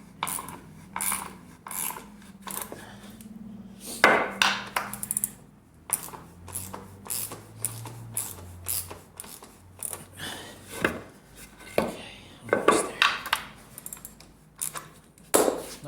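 Half-inch by three-inch lag screws driven into a wall for a home gym plate storage rack, heard as a long run of close, ratcheting mechanical grinding bursts with short pauses between them and no talk.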